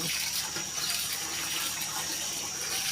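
Water is poured steadily over a person before a bath, a soft, continuous splashing stream heard close and fairly quiet, with no talking.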